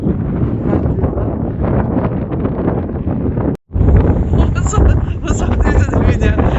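Strong gusts buffet the microphone on a cold seashore, a continuous low roaring rumble with a brief dropout midway, then more blustery wind.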